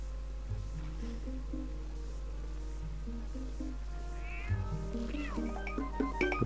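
In-game cat from Zelda: Twilight Princess meowing repeatedly after snatching a fish, with high, wavering video-game cries rising over steady background music and growing busier toward the end.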